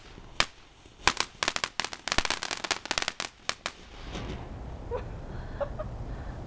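New Year fireworks exploding in a rapid irregular string of sharp cracks and pops, moderately distant, thinning into scattered faint bangs and crackles.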